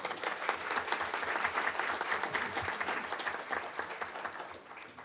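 Applause rises from attendees at a school board business meeting, a dense, steady patter of many hands that holds evenly and begins to taper near the end.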